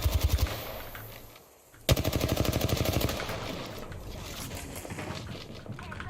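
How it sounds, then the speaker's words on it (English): Rapid bursts of automatic gunfire in the Fortnite video game, loud and close, with a brief lull before another sustained volley; a faint voice may be present underneath. "I think we just got shot at."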